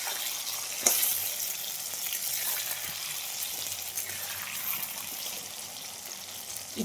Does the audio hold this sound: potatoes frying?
yes